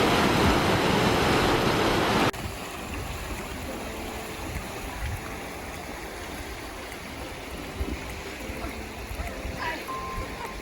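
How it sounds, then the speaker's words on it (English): A mountain stream tumbling over little waterfalls in the Blue Ridge Mountains near Ellijay, Georgia: loud rushing water at first, then a softer steady babble of flowing water that continues to the end. "walking next to a mountain stream are all the little waterfalls that you get to see"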